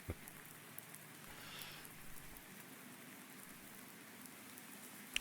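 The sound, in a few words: rain in video game Farming Simulator 19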